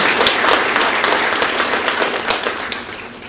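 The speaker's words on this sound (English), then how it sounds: "let's give ourselves a big round of applause for you." Audience applause at a workplace celebration, a dense steady clapping that fills the room at close range for about three seconds with no talk over it.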